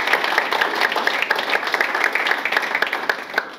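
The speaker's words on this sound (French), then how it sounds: "Est-ce qu'on peut applaudir pour BMA," An audience claps at a French-language talk, a steady dense burst of hand clapping from a roomful of people, with rhythmic spiky claps throughout at moderate loudness and no talking over it.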